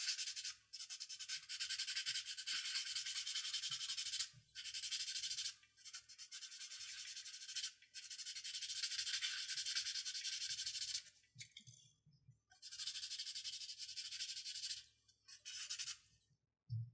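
A part from a Master Grade Wing Gundam plastic model kit is sanded by hand in long, steady, close-up scratchy strokes broken by brief pauses.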